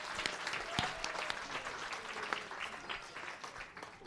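Audience at a space-careers panel discussion applauds, a fairly quiet, sustained patter of many hands clapping with a few sharper claps standing out, heard alone without speech.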